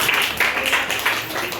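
Brief burst of clapping from a class of students, several uneven claps rising and falling over a short moment.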